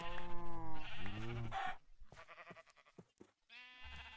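Several sheep bleat in a Minecraft game, loud, wavering calls overlapping near the start, then a few more bleats after a short gap with soft clicks in between.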